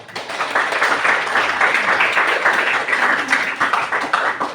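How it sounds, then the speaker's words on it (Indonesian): Students in a classroom clap together in a loud, dense burst of applause that holds steady for several seconds without talk. "Tepuk tangan."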